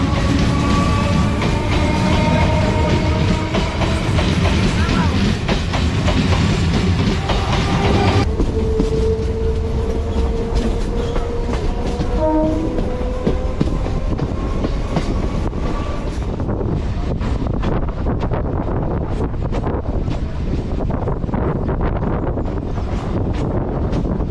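A passenger train on the Kolkata to Bakkhali route rumbles steadily throughout, with continuous wheel and carriage noise, rhythmic clatter and buffeting wind close to the microphone, and no talk.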